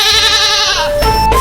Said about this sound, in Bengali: ছাগলটা কখন থেকে বেড়াচ্ছে?